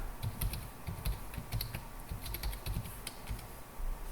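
Steady typing on a computer keyboard, keys clicking in quick uneven bursts as a mount command is entered, close and fairly quiet with no voices.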